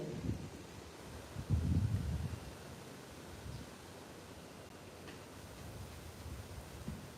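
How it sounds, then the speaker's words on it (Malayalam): Steady wind rushing against the microphone, with a few low rumbling gusts early on, continuous and fairly soft. "നല്ല കാറ്റ്"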